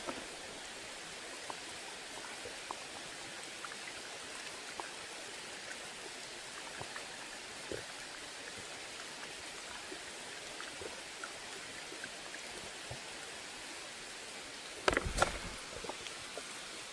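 Rain falls steadily through a forest, a soft, even hiss with scattered drips, and a brief louder rustle near the end.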